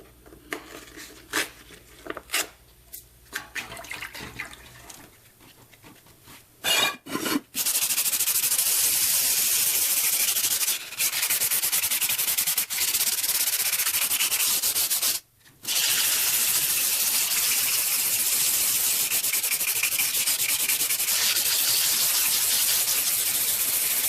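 Wet sanding of aluminum with 400 grit sandpaper, a close, steady scratchy rubbing that runs continuously and is loud, with a brief pause midway, after a few scattered handling knocks at the start.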